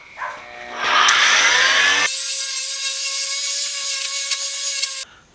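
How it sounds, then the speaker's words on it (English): An orbital sander smooths the wooden handle of a Harbor Freight Pulaski axe: a steady, close, high whirring hum with a scratchy onset, running for several seconds and then cutting off abruptly. "So I'm just gonna take a orbital sander."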